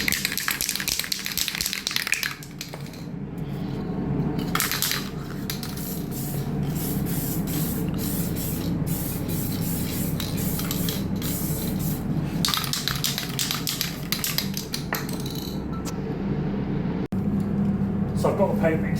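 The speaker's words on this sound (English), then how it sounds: "I'll put some adhesion promoter around those areas and it'll just help the paint stick." Adhesion promoter sprayed from a can onto a car bumper, a steady close hiss running almost the whole time with brief breaks, while a person talks over it.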